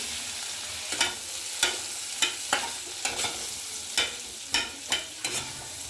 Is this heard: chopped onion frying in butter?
yes